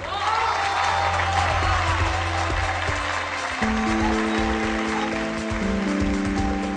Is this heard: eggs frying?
no